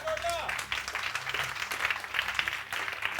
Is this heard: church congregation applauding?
yes